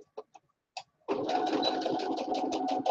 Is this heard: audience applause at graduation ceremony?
no